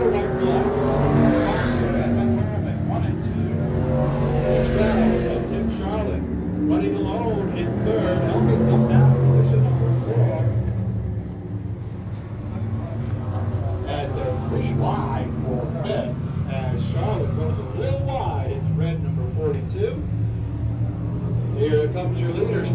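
Race cars roar past on a speedway oval, a loud continuous engine rumble with rising and fading passes, under constant race commentary.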